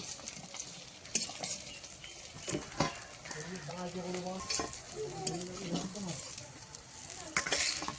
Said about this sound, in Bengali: মাছ কিছুটা ভাজা হয়ে গেছে তুলে নিচ্ছি